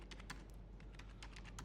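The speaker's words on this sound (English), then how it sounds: "I'm going to type a question like who do you think" Typing on a computer keyboard, a quick uneven run of close key clicks over a steady low background hum, with no voices.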